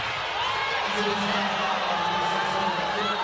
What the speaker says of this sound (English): Sounds like the Aces crowd wants a jump ball.